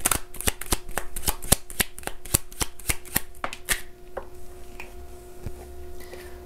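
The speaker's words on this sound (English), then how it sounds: "Let's grab another card." Tarot cards are shuffled in a brisk, steady run of about fourteen crisp riffling slaps over a few seconds, then the handling softens into quieter rustles and scattered light taps.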